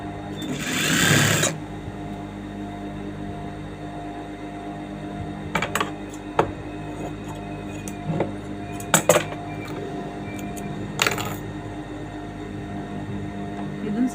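A sewing machine stitches the lining of a saree blouse in short, quiet bursts separated by pauses, with faint clicks and handling noises over a low room hum, and one louder rustle near the start.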